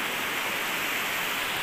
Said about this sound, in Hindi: नदी का साउंड इतना है।